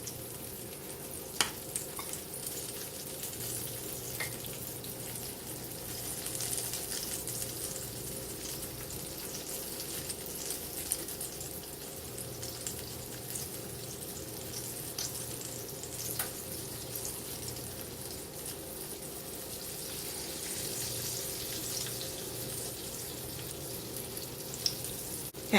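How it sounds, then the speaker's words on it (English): Floured salmon patties fry in hot grease with a continuous close sizzle and crackle, broken by occasional clicks and small knocks. No voice is heard over the frying. "I'm going to finish getting these floured up and into the grease to cook"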